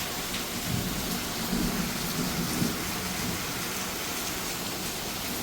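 Heavy rain with thunder pours down in a dense, loud, continuous roar, with low rumbles rising and falling beneath it and no voices.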